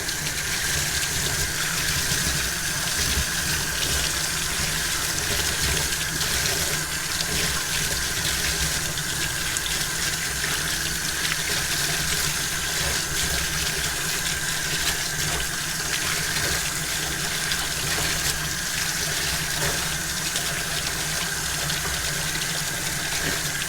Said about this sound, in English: So all I have to do now is really rinse them out with strong water.